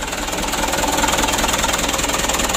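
A Mitsubishi Canter HD 125 PS diesel engine runs rough at idle, a steady close knocking clatter with uneven shaking pulses throughout, no voices.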